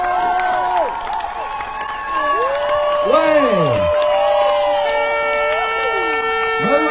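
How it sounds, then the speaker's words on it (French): A crowd claps, cheers and whoops as a paddler finishes a 24-hour paddle race at Saint-Malo, steady lively applause throughout, with an announcer's amplified voice talking over it. "Allez, on l'applaudit."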